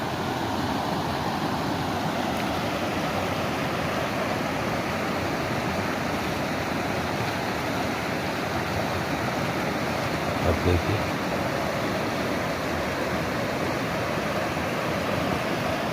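Steady rushing flow of the Jhalkari, a tributary of the Narmada river, a constant broadband wash heard close up, with someone speaking briefly over it.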